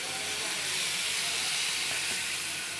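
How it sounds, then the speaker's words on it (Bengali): Water poured into frying onion, ginger paste and spices, giving a loud, close, continuous steamy hiss and sizzle that holds steady throughout. "এইভাবে একটু পানি দিয়ে দিব।"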